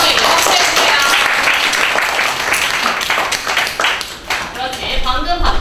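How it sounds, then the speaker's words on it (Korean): A classroom of students applauds a classmate, with dense, close clapping that runs throughout and tapers slightly near the end, mixed with voices. "마지막 단어 분석하느라 수고해준 대성에게 박수해주세요."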